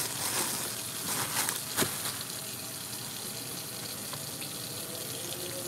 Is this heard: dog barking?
no